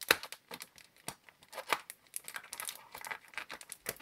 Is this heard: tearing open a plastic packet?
yes